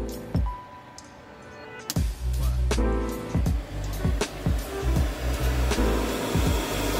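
A blower fan in a modded PC case runs with a loud, steady whooshing roar, broken up by repeated clicks and knocks from handling nearby.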